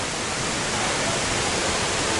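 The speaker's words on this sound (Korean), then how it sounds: "왜 실버 폭포라고 그러냐면 후, 그 물길이 내려오는 게 은색깔이라" Silver Waterfall near Sapa, Vietnam, at about 2,000 m altitude: a loud, unbroken roar of falling water filling the whole clip, close and constant with no other sounds.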